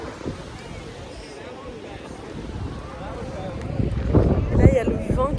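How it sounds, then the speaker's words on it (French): Outdoor wind rising before a storm on a road trip from Florida to South Carolina, a rumbling gusty roar buffeting the microphone that swells toward the end, with a person talking over it. "Là, il y a le vent qui commence à se lever."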